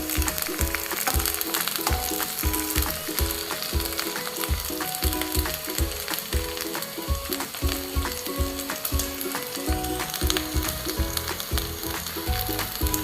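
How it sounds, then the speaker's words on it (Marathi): Okra frying in a pan gives a steady, close sizzle that runs the whole time, layered with a rhythmic, ticking, mechanical beat. "तुम्ही बघू शकता मी इथे छान असं फ्राय करून घेणार आहे."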